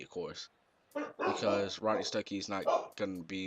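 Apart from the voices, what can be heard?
pet dog barking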